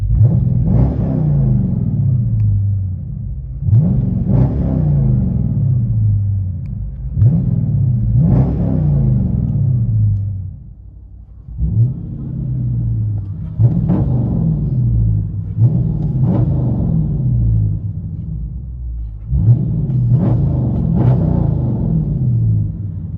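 Dodge Charger R/T with a 5.7 HEMI V8 and true dual straight pipes with an X-pipe, revved repeatedly: loud, deep exhaust blips rising and falling in bursts over a rumbling idle, heard up close with no talk.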